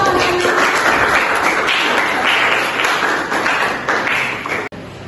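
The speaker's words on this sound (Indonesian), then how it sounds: "kasih aplaus dulu untuk kelompok visual" A classroom of students applauds a presenting group, with dense, sustained clapping from many hands that fades slightly toward the end.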